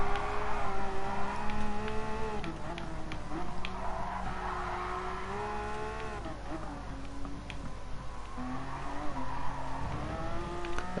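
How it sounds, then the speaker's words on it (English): A Porsche Cup race car in the GT Sport video game drifts through bends, its engine whining and tires squealing in long wavering tones that rise and fall steadily throughout. "Car drifting like an absolute beast"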